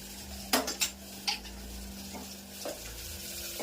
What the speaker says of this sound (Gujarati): થોડીક વાર તેલમાં આમને તળવા દેવાના